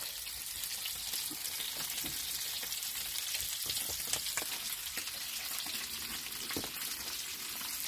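Stuffing fries over high heat, browning on each side, a continuous fairly quiet crackling sizzle with small pops and occasional stirring scrapes, steady throughout.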